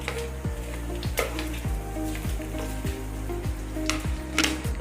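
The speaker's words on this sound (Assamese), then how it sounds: "তেল গৰম হৈ গৈছে। ইয়াতে মই এতিয়া শুকান জলকীয়াখিনি দি দিছো।" Dried red chillies dropped into hot mustard oil for a dry fish bharta crackle and sizzle steadily up close, with a few sharp pops and a low repeating hum underneath.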